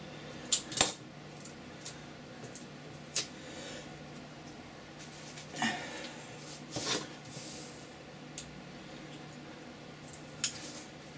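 A craft knife cuts the corners off a thin cardboard soap box, giving faint scattered snips and scrapes at uneven intervals with quiet handling noise between them.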